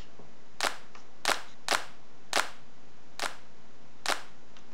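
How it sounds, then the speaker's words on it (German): Six crisp, sharp hand-clap samples from free music software sound one at a time at uneven spacing over a quiet background, some slightly softer than others. "ein paar schöne Klatscher"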